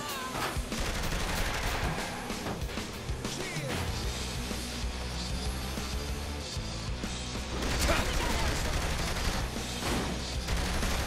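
Sustained gunfire and rapid volleys erupt in a Saints Row: The Third shootout at an armory, dense bursts with crashes layered over low rumbling game music, loud and continuous with a brief faint voice.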